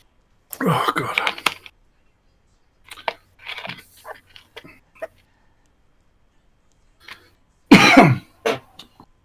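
A man coughs and clears his throat close to the microphone, rough bursts separated by quiet gaps, with a final harsh cough near the end.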